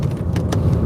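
A car driving past Bootle Municipal Golf Course gives a brief, steady, loud low road rumble from inside the vehicle, with faint ticking on top and no voices.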